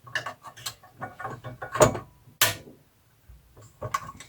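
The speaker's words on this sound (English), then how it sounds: "I'm trying my little baby channel locks." Small channel lock pliers working a bolt on a Jiffy ice auger, giving close metallic clicks, scrapes and ratcheting clatter in uneven bursts with brief pauses, no speech.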